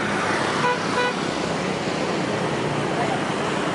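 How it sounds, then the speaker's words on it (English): Car horns toot briefly at pedestrians amid dense, constant street traffic in Nha Trang, Vietnam, the short honks rising over a steady roar of engines and road noise. "They just honk and make the pedestrians stop"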